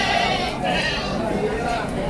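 Female Jawa Randu breeding goats bleat at the Karang Pucung goat market, a busy crowd of animal calls overlapping steadily under nearby chatter and market noise.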